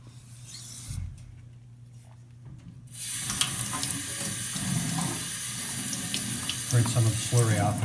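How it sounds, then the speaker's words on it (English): Tap water runs and splashes as slurry is rinsed off a knife sharpening stone, a steady broadband wash starting after a quieter opening, with faint rubbing handling noises near the end. "Rinse some of the slurry off."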